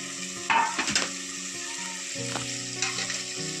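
Loud sizzling of chicken frying in a pan over a wood-fired stove for biryani, with scraping and clinking as it is stirred, close up and continuous.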